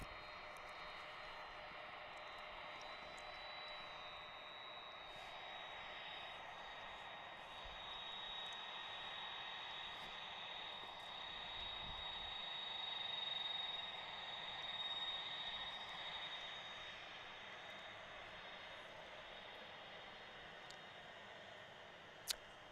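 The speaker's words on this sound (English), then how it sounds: "Colin can't get enough of this MD-11" MD-11 jet engines at DFW International Airport, a faint, steady distant whine and broadband rumble that swells slightly midway, heard from afar through a live airport stream, with no talk.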